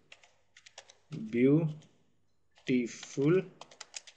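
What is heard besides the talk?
typing a prompt on a computer keyboard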